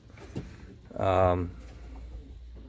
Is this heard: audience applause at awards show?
no